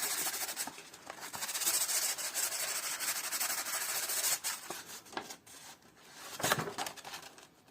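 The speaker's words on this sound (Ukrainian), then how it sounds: "проводимо доводку на наждачці" A needle file is finished by rubbing it on fine sandpaper, making steady, close scratchy strokes that keep up for several seconds and then break into shorter, uneven rubs.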